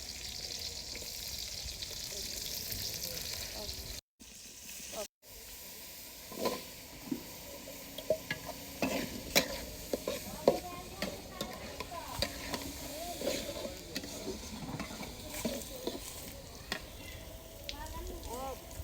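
Fish and eggplant curry cooks in a pot over a wood-fired stick stove, a steady soft sizzle and hiss with scattered clinks of stirring.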